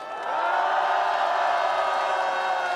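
Outdoor crowd at an opposition-party rally in Korea demanding a president's impeachment, applauding and cheering in a steady, dense wash of sound that swells in and holds at a moderate level, with no voice on top.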